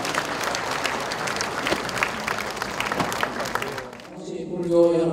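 Warm, dense audience applause at a charity sharing event, steady for several seconds before fading, then a voice begins speaking over the tail.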